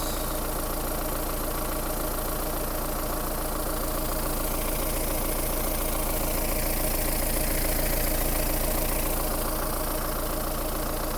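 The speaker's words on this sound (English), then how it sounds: "Quick video on starting the Roxor" Mahindra Roxor engine idling after a cold start, a steady, even diesel-like chug with a knocking pulse, close and loud throughout with no voices.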